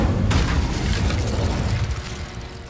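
Incendio fire spell cast in Hogwarts Legacy, a loud booming burst that erupts sharply and rolls on as a sustained roaring rumble, fading slightly toward the end.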